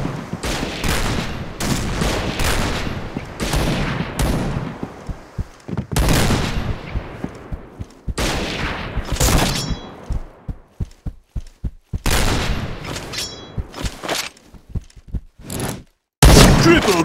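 Rapid gunfire in the shooting game Point Blank: repeated loud bursts of automatic fire and single shots, close and dense, with short pauses between volleys and game voice callouts.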